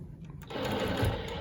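Longarm quilting machine stitching with rulers in contrasting thread, a steady close mechanical whir that starts softly and rises to a sustained running hum with no talking.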